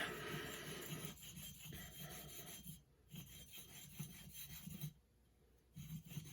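A woodworking marking knife is sharpened by hand, a close, quiet rasping scrape repeated in steady back-and-forth strokes with short pauses between passes.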